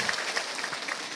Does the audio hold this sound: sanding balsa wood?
no